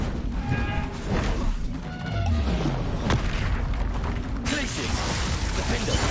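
The Bombarda blast spell in Hogwarts Legacy lands in the middle of a spell-casting battle, a loud booming burst within dense clashing game effects, creaks and mechanical rattles, with some voice in the mix.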